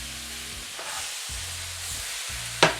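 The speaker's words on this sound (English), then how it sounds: "Rice wine goes in at the last second. Just give it a stir." Singapore chow mein stir-frying in a wok with rice wine added at the end, a steady broad sizzle with a steam-like hiss throughout, a short sharp clatter near the end, and no talk.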